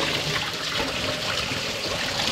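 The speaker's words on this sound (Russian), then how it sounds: "Откручиваем нижний патрубок и сливаем всю мощмалу." Coolant water drains from a car radiator's unscrewed lower hose, a loud, continuous gushing and splashing rush close by with no voices.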